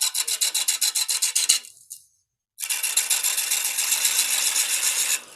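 Carving tool bevel rubbing on cedar wood in quick rhythmic strokes, then a short pause and a longer run of denser rasping, close and crisp.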